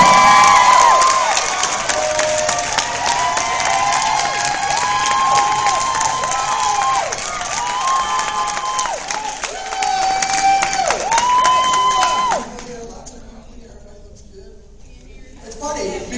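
A crowd applauds and cheers for a stand-up comedian at a comedy show, with loud sustained clapping, whoops and shouts for about twelve seconds before the noise drops away to quieter murmuring.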